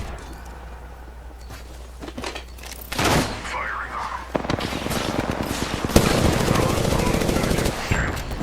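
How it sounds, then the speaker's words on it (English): Full-auto Prowler gunfire in Apex Legends, rapid bursts of close, loud shots rattling in quick succession over busy game noise. "I'm not used to the recoil of a full auto prowler"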